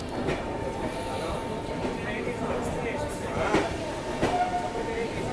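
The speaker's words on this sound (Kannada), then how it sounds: "ಬಾಂದ್ರಾ ಜಾಮ್ನಗರ್ ನಮ್ಮ ಟ್ರೈನ್ ಅರೈವ್ ಆಯ್ತು ನೋಡ್ರಿ" The Bandra–Jamnagar Humsafar train rolls into a station with a low rumble and faint rhythmic clatter, heard at moderate distance with people talking nearby.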